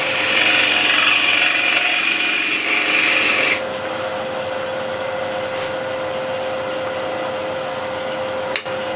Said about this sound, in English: Again, spindle gouge.